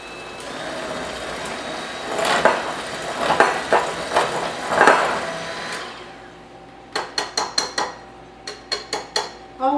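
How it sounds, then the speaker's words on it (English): An electric hand mixer whirs through lemon square batter with clinks of beaters against the bowl, then cuts off, followed by a series of sharp taps as the beaters are knocked clean. "Always shut the mixer off before you lift the beaters up out of the batter, so you don't have a mess to clean up."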